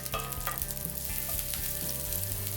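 Chopped ginger, garlic and green chili sizzle steadily in hot oil in a pan, with a few close scraping clicks as they are stirred, and no talking.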